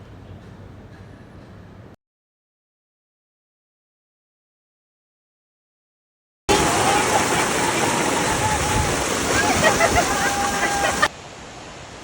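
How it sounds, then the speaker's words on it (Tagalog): Hulugan Falls roars loud and dense as a broad, constant rush of falling water, heard close after a quieter passage and a stretch of near silence. "And here we go, the most amazing Hulugan Falls."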